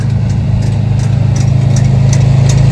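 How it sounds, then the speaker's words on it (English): A manure spreader towed around a paddock of miniature horses gives off a loud, steady engine drone with a fast rhythmic pulse, close by and continuous throughout, with no talking. "manure spreader makes quite a bit of noise"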